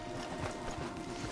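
Horses in the video game Red Dead walk with a brief run of soft, uneven hoof clops on a path as riders stop to dismount, heard faintly and close by.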